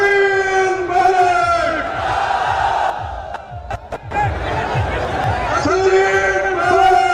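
A large crowd of young men at a political rally in Viratnagar chants a loud, drawn-out cheer for Sachin Pilot, the massed voices rising in sustained waves, briefly breaking off and then swelling again.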